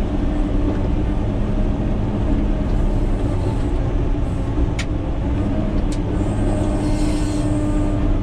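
Caterpillar 120K motor grader in third gear on a soft gravel road, its engine a loud, steady low rumble with constant mechanical rattle, close to the listener, joined by a couple of brief sharp clicks.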